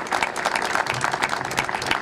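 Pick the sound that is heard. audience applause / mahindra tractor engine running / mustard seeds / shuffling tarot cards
audience applause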